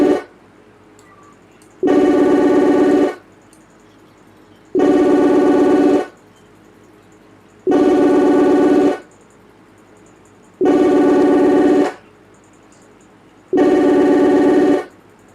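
Phone ringing on a Messenger group call, five loud, evenly spaced ring bursts of about a second each, separated by near-silent gaps of roughly the same length.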